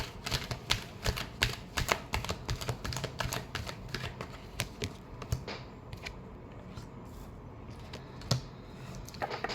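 Tarot cards being shuffled, a rapid run of crisp riffling clicks and soft flutters, steady and close for several seconds with no talking.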